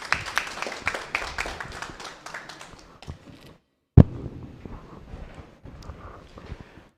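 Audience applause at a walkers' association Christmas and New Year celebration, a dense patter of clapping that thins out and stops, followed by a sharp thud and scattered murmuring.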